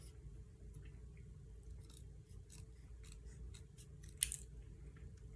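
Scissors snip through card stock in a quiet series of short, soft cuts spaced a fraction of a second apart, close by, with one sharper snip near the end and no talking.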